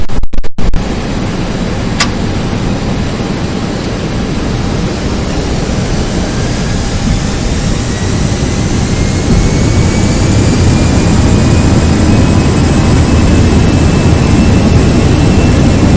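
Airbus A319 jet engines spooling up to takeoff thrust in a flight simulator, a loud, steady roar with a rising whine that builds and holds throughout.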